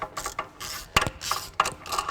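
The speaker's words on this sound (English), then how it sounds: "let's go in there with a 9/16 socket and a big extension" A 9/16 socket wrench on a big extension loosens bolts on a Ferguson TE20 tractor front gearbox, giving a close, crisp series of ratcheting clicks in quick repeated strokes.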